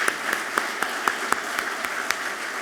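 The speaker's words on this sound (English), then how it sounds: "Let's give her a round of applause" An audience at an alumni awards event applauds a student host, producing a steady wash of clapping with a prominent nearby pair of hands clapping in an even rhythm about twice per second.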